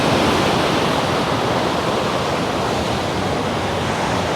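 Loud, continuous rush of sea surf on an Italian coast near Leuca, a dense roar of breaking water close by, steady throughout with no voices.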